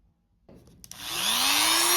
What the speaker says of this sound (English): I'm going to take my trusty Dremel